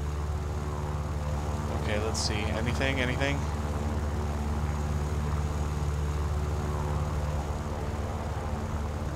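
A WWII propeller fighter plane flies in the War Thunder game over Karelia, its engine a steady, unbroken drone throughout, with someone talking briefly over it near the start.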